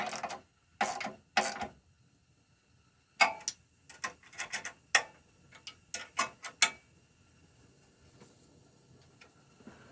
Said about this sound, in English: to finish bolting everything in place.